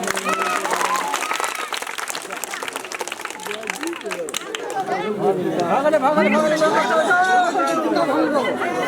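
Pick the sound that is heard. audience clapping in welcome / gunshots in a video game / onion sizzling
audience clapping in welcome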